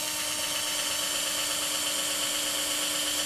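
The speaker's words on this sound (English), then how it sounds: "where we're going to drill these holes" A power drill bores holes in a taxidermy mount's base, giving a loud, continuous high-pitched whine that holds steady throughout without pauses.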